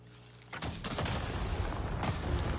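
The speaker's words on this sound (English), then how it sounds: "It has some pretty good explosions in the game." A rumbling blast of gas tanks in the video game Avatar: Frontiers of Pandora erupts and rolls on as a sustained, noisy roar of explosions, loud and close, with a second surge near the end.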